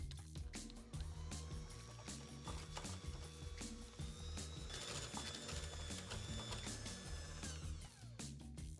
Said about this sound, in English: I like to use the whisk attachment on my mixer